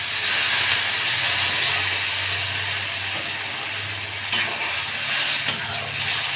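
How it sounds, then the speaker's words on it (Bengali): Water poured into a hot pan of long thin black eggplant and bhola fish gives a loud, broad steaming hiss that holds steady for several seconds and fades a little toward the end. "এবার আমি জলটা দিয়ে দেব।"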